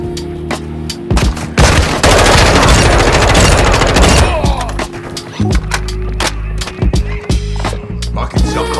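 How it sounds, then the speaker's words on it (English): Video game combat gunfire, with a loud dense stretch of rapid automatic fire and booming impacts, then scattered sharp shots and clatter, close and intense throughout. "You are taking effective fire."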